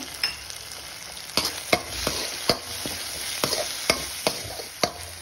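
Onion and tomato frying with asafoetida, a steady close sizzle punctuated by sharp rhythmic clinks and scrapes of a spoon stirring against the pan, roughly twice a second, with no speech.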